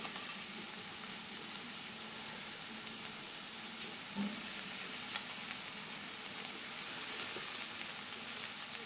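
Samosa filling with fennel seeds, lemon juice and coriander leaves is mixed in a pan over a faint, continuous sizzle. A few light scrapes and taps from stirring come sparsely through the quiet background.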